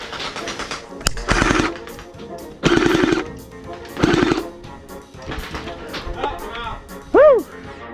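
Gel blasters fire in three rapid automatic bursts during a backyard-style skirmish game, loud and close, followed by quieter clatter and a brief whistling squeal.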